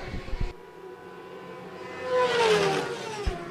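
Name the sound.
racing motorcycles on the track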